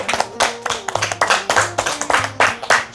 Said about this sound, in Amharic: የአንደኛው ዙር አሸናፊያችን መባን አጨብጭቡ